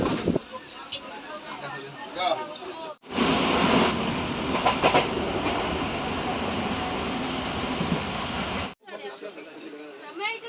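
A passenger train on a local Bengal route, near Baharampur and Krishnanagar stations, rumbles loudly and steadily with dense broadband noise, bracketed by quieter stretches where people chatter nearby.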